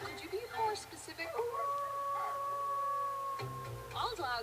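A wolf howl rises and holds as a long, steady wail through the middle, fainter yips and whimpers around it, with a voice talking over it.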